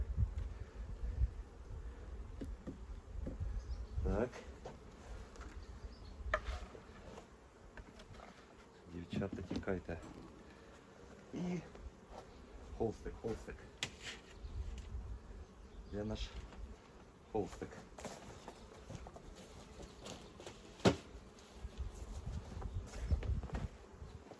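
Honey bees buzz steadily and fairly close around an open beehive, a continuous hum with rustling and handling sounds. Voices talk quietly at times.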